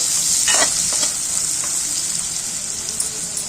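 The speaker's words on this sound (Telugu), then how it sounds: "ఈ చేపలు అనేటివి నూనెలో మంచిగా బాగా ఫ్రై అవ్వనివ్వాలండి" Dry fish frying in oil for a curry, a steady bright sizzle with a few soft stirring scrapes near the start, close and continuous with no voices.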